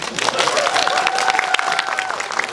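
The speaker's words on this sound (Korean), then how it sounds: "박수 한번 주세요" A cinema audience at a film talk event claps loudly and continuously, with crowd murmur and a sustained voice or tone running briefly beneath the applause.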